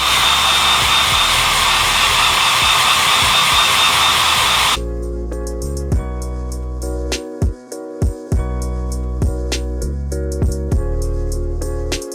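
A heat gun warms the vinyl layer on a Nike Air Force 1 G-Dragon Para-Noise sneaker, giving a loud, steady blowing hiss for about five seconds before it cuts off, leaving quieter tones and scattered clicks.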